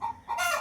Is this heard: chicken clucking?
yes